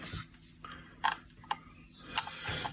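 Screws being removed from a cheap Chinese 4K camera during a teardown, heard as a few faint, scattered clicks and small ticking metallic taps with quiet gaps between them, with no talking.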